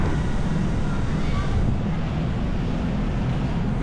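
Wind blows across the open courtyard of Istiqlal Mosque in Jakarta as a steady, loud broadband rush and buffeting against the microphone, continuous throughout.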